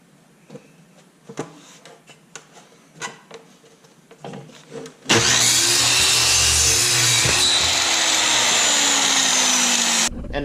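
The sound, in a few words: sawing a wood board into slices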